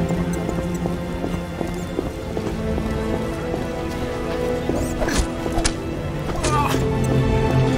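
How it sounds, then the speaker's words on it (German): Heavy rain pours steadily in The Witcher, a dense continuous downpour with scattered droplet spatters and soft clip-clop of hooves, while a voice speaks over the constant wash. "Es regnet und es schüttet."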